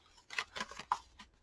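Scissors snipping paper pieces for mini pocket books made from envelopes, a quick run of four or five faint crisp cuts within about a second, close and quiet.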